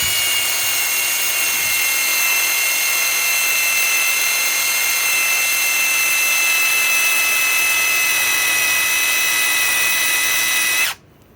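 Ryobi PSBIW25 compact impact wrench on an 8 Ah 21700-cell battery under a hard test, its motor whining at a steady high pitch for about eleven seconds before cutting off abruptly.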